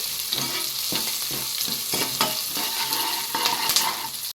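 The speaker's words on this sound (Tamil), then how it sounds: "எண்ணெயில் வதக்க வதக்க வாசம் நல்லா கும்முன்னு வீசுது" Fenugreek seeds and garlic sautéing in hot oil give a steady close sizzle, broken by repeated scrapes and clinks of a spoon stirring the pan, with no voices.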